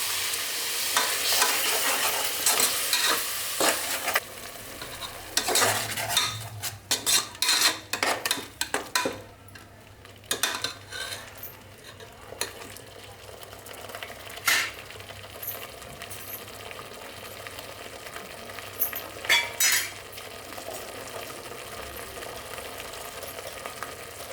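Tomatoes stirred in a frying pan while making mutton kola urundai kulambu: steady close sizzling runs under repeated spoon scrapes and stirring knocks against the pan, with no talk.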